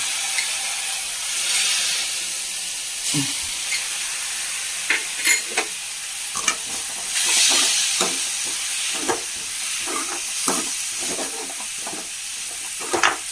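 Salt water poured into a pan of green gram and banana flower stir-fry, setting off a steady sizzle and hiss, with scattered clinks and stirring scrapes from a spoon against the pan, close and fairly loud, with no talking.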